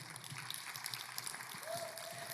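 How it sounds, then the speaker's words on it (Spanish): A church congregation applauds, with a brief, moderate burst of clapping. A voice is heard faintly under it. "Un fuerte aplauso."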